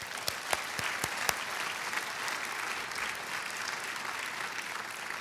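Audience applause fills an awards gala hall, a steady wash of many hands clapping at even loudness throughout, with a few sharper individual claps standing out near the start.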